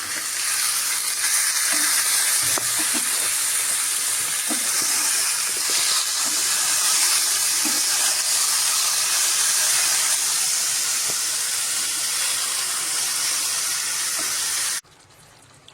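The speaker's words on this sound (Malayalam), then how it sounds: "ഇനി ആ ചിക്കൻ നമ്മൾ അങ്ങനെ ഇളക്കുക" Chicken perattu frying in a pan with onion, salt and spices, giving a steady, loud sizzle that holds evenly for about fifteen seconds before dropping away abruptly.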